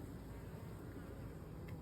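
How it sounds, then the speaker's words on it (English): Bees buzzing as they fly in and out of a bucket swarm trap outdoors, a continuous low droning hum, faint and steady with no voices. "See, them bees are just coming in and out"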